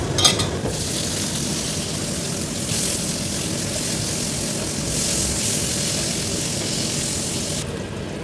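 Red snapper sizzles steadily in hot oil, a loud continuous crackling hiss that swells and eases without pause, with no voices.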